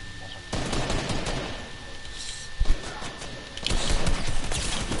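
Rapid automatic gunfire in a shooter game, bursts of close shots with a loud single crack in the middle and a heavier volley toward the end.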